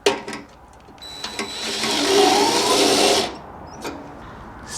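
Electric motor on a small Hollander beater for papermaking spins up after a couple of short knocks, running as a steady loud whine for about two seconds before cutting off, close by.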